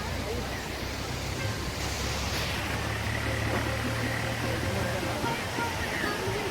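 Water pours steadily from a dam near the Droneshwar Mahadev temple, a continuous broad rushing wash with a low rumble underneath, close and unbroken throughout.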